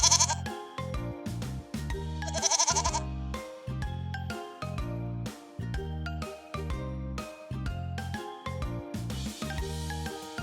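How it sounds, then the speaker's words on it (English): A goat bleating, a string of loud, wavering bleats that repeat in quick succession alongside light tinkling, jingly sounds, with no talking. "Goats make the meh-meh sound."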